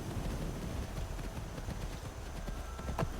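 Horse hooves clip-clopping in a modded Skyrim playthrough (Wildlander), a rapid, even patter of hoofbeats over a dense rumbling background, with a faint whinny-like sound near the end.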